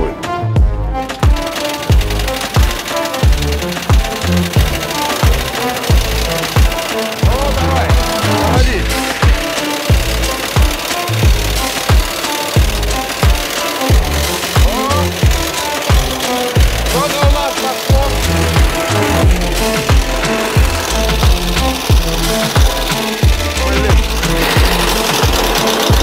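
A diesel engine knocks hard and rattles continuously while being tow-started, a loud, dense, rapid hammering that runs for the whole span with no pause.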